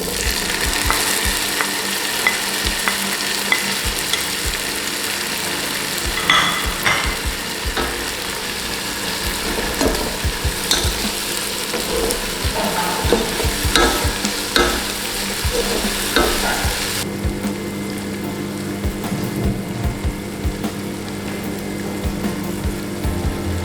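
Softened onions and chopped tomato fry for Kerala-style chicken tikka masala, a constant close sizzle under busy, rattling spatula scrapes and clicks against the pan, steady throughout with no speech.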